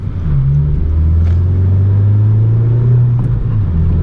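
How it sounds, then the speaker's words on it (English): A car with an aftermarket Acuity shifter drives in hot weather, its engine droning loud and close as it accelerates with a steady rising rumble, without any talk. "I'm not gonna beat on the car too hard today because it's super hot."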